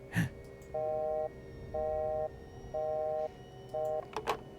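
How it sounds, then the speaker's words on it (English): Busy-signal tone from a cut phone line in an indie horror video game, four evenly spaced steady electronic beeps with short gaps, clear and prominent over a low hum. "Damn, he cut the phone line."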